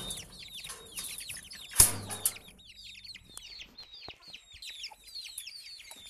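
Farmyard chickens in a pen cluck and chatter in a busy overlapping stream, with one loud close burst of squawking partway through and a faint low rumble beneath.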